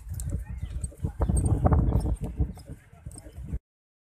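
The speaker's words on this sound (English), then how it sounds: "horse cart in Daman." A horse pulling a cart along the seaside in Daman, hooves clip-clopping in an irregular series of close knocks, with a voice speaking over it and birds faintly in the background.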